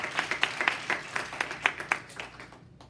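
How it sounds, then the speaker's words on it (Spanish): A church congregation claps briefly, a loose run of sharp, uneven hand claps that peak in scattered bursts and fade out within a few seconds. "Démosle un aplauso al Señor por lo que Él hizo"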